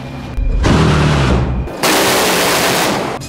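AK-630 30mm naval Gatling gun firing at a very high rate: two loud, continuous roaring bursts that merge into a dense buzzing blast, separated by a brief gap.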